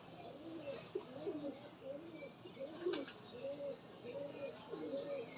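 Pigeons coo repeatedly in a steady rhythmic series, soft low throaty calls close by, with faint chirps in the background.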